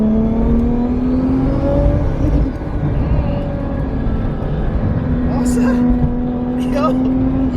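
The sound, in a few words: high-horsepower tuned car engine revving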